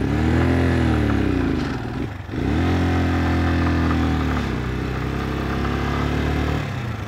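A motorcycle engine bought in Tulum, Mexico, runs loud and close, then cuts out and stalls for a moment before catching again and revving back up to a steady, throaty drone.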